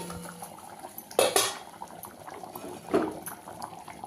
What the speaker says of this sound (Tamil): பாருங்கள் நல்லா வேகுது, கொதிக்குது.